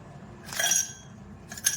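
A few ice cubes, four or five in all, drop into a glass of aam panna, green mango sherbet. Two light, close clinks arrive a moment apart over a soft background.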